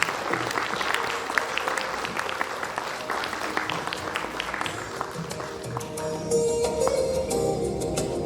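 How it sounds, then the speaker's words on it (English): An audience at an HR and EHS conference in Vadodara claps steadily in sustained applause that carries on without words, with a faint tone rising near the end. "Let's give one more round of applause"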